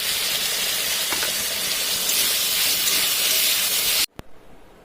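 Pre-fried potatoes hit a hot pan with a loud, steady, hissing sizzle that fills the whole stretch, then cuts off abruptly near the end, followed by a brief knock and faint residual noise.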